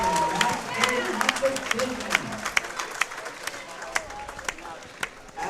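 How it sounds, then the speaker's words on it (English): Spectators at a junior bowling championship match-play bracket applaud the finalists, a scattered indoor round of claps with sharp individual hand strikes under low crowd murmur and some talk. "let's give these finalists another round of applause"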